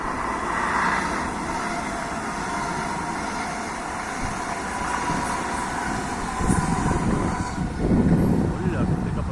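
An AVE S103 high-speed train passes a trackside spot near Zaragoza, giving a broad, sustained rushing roar that swells slightly toward the end.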